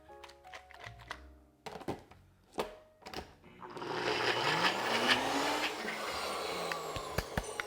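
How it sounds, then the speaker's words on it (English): Blender running on a thick plant-based chicken salad mixture, starting with short bursts and clicks, then a sustained loud motor whir for several seconds before stopping with a few knocks. "try blending again, and that should help get things moving a little bit better"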